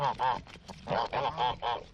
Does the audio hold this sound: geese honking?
yes